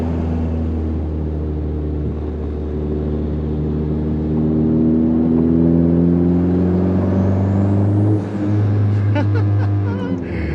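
A 10th gen Honda Civic Si on the road gives a steady droning engine and exhaust tone from inside the cabin, rising gradually as it accelerates, then dipping briefly near the end before picking up again.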